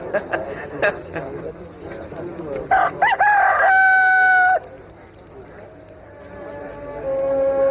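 A rooster crows loudly once in a long, drawn-out call, with crowd murmuring and rustling before it and quieter background sound after.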